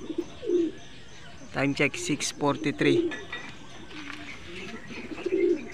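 Homing pigeons at a club training session give soft, throaty coos close by while someone talks over them outdoors.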